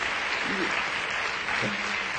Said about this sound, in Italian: Devo fare un applauso a Prodi?